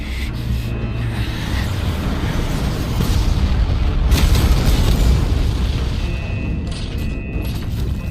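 A massive explosion in an animated sci-fi space battle, a loud sustained rumbling roar with deep booming low end and crackling debris throughout.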